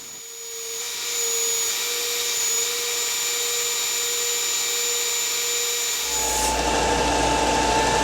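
Worn 150-grit 4-inch belt sander grinding down material in a garage, a steady loud whirring drone that starts after a moment and holds throughout, its pitch shifting near the end.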